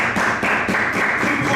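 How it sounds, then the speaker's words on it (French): Congregation applauding at a French-speaking Christian church service, a dense steady wash of many hands clapping together, fairly loud and continuous with slight rhythmic pulses. "Acclamons la parole."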